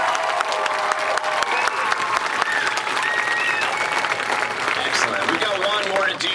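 An audience applauds a junior guard performance at a community night event, with dense sustained clapping and crowd noise throughout, mixed with cheering and voices.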